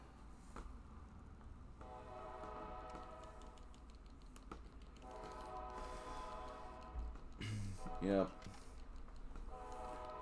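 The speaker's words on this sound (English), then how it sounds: "There's a train" A train on tracks near a house sounds its horn in the distance, a faint sustained tone recurring a few times under keyboard typing and occasional talk.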